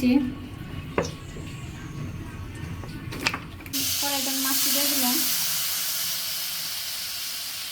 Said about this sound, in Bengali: কড়াইতে তেল দিয়ে দিবেন